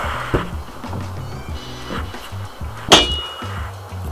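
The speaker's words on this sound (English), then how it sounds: "so we're going to whack it out of clamps." A glued-up wooden Viking sword blank is knocked free of its clamps in a workshop, with one sharp, loud clanging strike near the middle over low background rumble and a few softer knocks.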